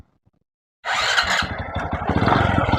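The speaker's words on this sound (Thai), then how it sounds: "สตาร์ตติดก็ยากครับ อ่าลองสตาร์ทมือ" A motorcycle engine, freshly reassembled, is started by hand after a short silence, then catches and keeps running at a rough, steady idle, loud and close, with no talk.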